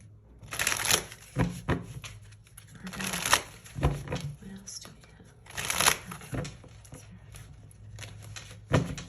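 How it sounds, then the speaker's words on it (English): Tarot cards being shuffled and pulled from the deck, with three or four crisp riffling bursts spread across the stretch and a voice talking between them. "So let's pull some more cards and see what comes out"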